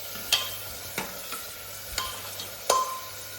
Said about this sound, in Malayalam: ചട്ടി ചൂടായതിനു ശേഷം വെളിച്ചെണ്ണ ഒഴിക്കാം എന്നിട്ട് നേരത്തെ കുത്തിച്ചതച്ച് വെച്ച ചെറിയുള്ളി ഇടാം